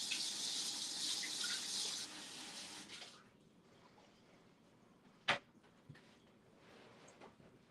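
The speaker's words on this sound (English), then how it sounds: "So I'm gonna wash my hands." A kitchen tap runs for about three seconds during hand washing, a soft steady hiss of water that then cuts off, followed by faint clinks and handling noises.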